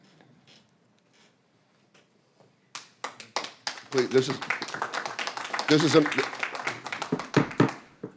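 Applause from the audience at a public county commissioners' meeting starts as a few claps, then swells into dense, steady clapping in a large room, with a voice speaking briefly over it.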